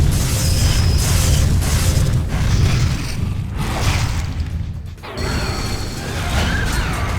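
Baragon unleashing its fire breath attack in Godzilla: Save the Earth, a loud, sustained roaring blast with deep rumbling low end and crashing bursts, continuous over about seven seconds with a brief dip near the end.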